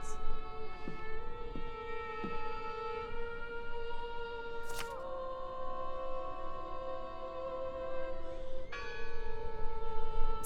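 A church bell tolls with a ringing, sustained tone in the game Draugen, its long overtones hanging under a steady ambient bed, with a couple of sharper strikes along the way.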